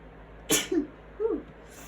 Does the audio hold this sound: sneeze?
yes